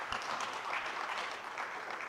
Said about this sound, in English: And we can clap for them.